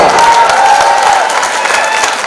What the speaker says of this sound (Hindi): तालियां बजाए जोरदार